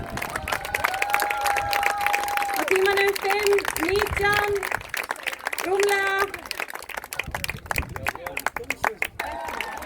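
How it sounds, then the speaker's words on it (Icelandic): Spectators clap and cheer steadily as a runner nears the finish of the Laugavegur trail race, while an announcer speaks over a loudspeaker and the applause carries on throughout. "gefum henni gott klapp hérna á lokasprettinum"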